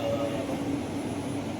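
Jakarta LRT light rail train running, heard from inside the car as a steady, loud rumbling hum with faint tonal whine, continuous throughout.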